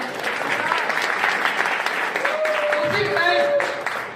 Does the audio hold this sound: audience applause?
yes